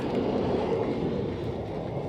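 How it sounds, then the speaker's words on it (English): A train rumbles steadily along the rails between Perth and Edinburgh, Scotland, a continuous low roar with faint rhythmic clatter, heard from inside the carriage. "we just had the most incredible train ride ever"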